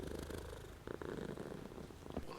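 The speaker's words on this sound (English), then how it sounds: "sorry if you can hear her purring as well, she's closer to the microphone than normal." A cat purrs right beside the microphone, a steady close rumbling purr that carries on without a break.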